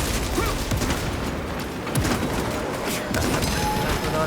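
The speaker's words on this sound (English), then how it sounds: "can you stop shooting at me?" Dense, continuous gunfire and clattering fight noise from a Project Aurora game battle rattle on without pause at a loud, steady level.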